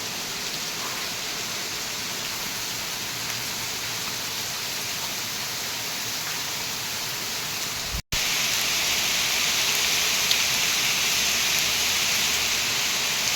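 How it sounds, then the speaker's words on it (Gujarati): Heavy rain pours down in a steady, dense hiss that holds for the whole stretch, briefly cutting out once before resuming slightly louder and brighter; no one speaks. "કેટલો વરસાદ પડે."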